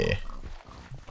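A Minecraft pig grunts and squeals loudly at the start, followed by fainter game sounds and brief low noises, with no talking.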